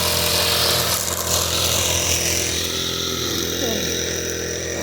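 A grass cutter runs on a farm plot among banana plants, giving a loud, continuous buzzing engine whine up close that holds steady throughout, with a muffled voice faintly beneath it.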